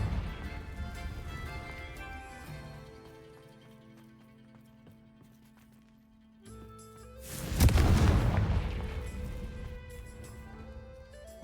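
A Confringo fire spell explosion in Hogwarts Legacy bursts loudly in one broad roaring blast that fades slowly, set against a backdrop of game music.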